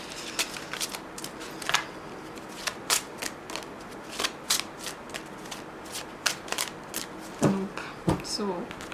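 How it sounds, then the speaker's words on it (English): Tarot cards being shuffled by hand in repeated riffles and taps, crisp bursts of papery flicking that come and go, with a voice talking briefly near the end. "Just give 3 more shuffles."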